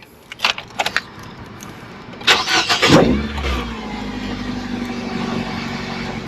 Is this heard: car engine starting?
yes